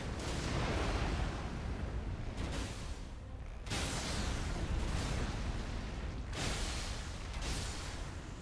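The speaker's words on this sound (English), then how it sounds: "because I'm playing Ironeye, I can just shoot him" The Ironeye character fires at a boss in a video game, producing dense, booming rumbles in sustained bursts with brief dips between volleys.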